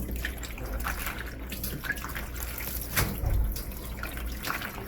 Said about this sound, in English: So you're rinsing the salt off the cabbage 3 times, 3 times.